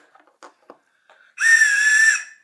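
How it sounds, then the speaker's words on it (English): A Survive Outdoors Longer emergency whistle gives one loud, shrill, sustained blast of almost a second, preceded by a few faint handling clicks. "another product from Survive Outdoors Longer is this emergency whistle"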